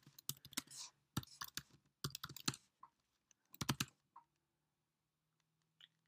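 Quiet computer keyboard keys tapped in short bursts as a short ls command is entered, with crisp close clicks separated by pauses and a final isolated keystroke.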